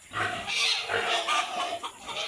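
Chickens cluck and squawk close by in a busy, noisy chorus, with turkeys, goats and other farm animal sounds mixed in.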